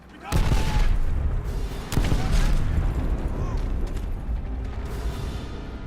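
Battle gunfire and explosions in Call of Duty: World at War, with sharp blasts near the start and around two seconds over a sustained loud din of war noise, while voices shout beneath it.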